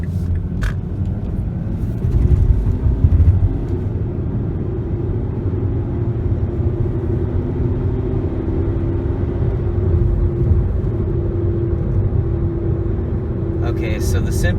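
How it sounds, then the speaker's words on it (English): A car with an automatic transmission fault is driven through the gears on a test drive, giving a constant low engine and road rumble from inside the cabin that swells as it pulls through each gear. "Okay, so we're gonna take it through the gears and see how she does."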